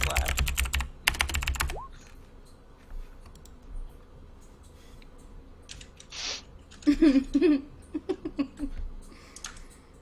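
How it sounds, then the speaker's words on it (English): Bursts of computer keyboard typing during an online tabletop role-playing session, quick clustered key clicks near the mic separated by quiet gaps, with brief stretches of voice-like sound in between. "I just type in stuff."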